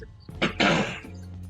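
A single rough throat clearing, close and fairly quiet, in two short bursts with a brief hum afterward.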